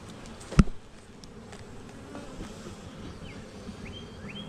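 Honey bees buzz steadily while a nuc is made from a hive, a low, even hum close by. One sharp knock from the equipment comes early, and no one speaks.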